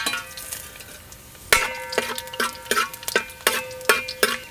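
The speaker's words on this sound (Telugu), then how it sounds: "ఇవన్నీ కలిపి ఈ కాగిన నూనెలో వేసుకుందాం" Whole spices (mace, cloves, cardamom, star anise, shahi jeera) dropping into hot oil for mushroom pulao, crackling and sizzling close up with a run of sharp pops and spits, no voices.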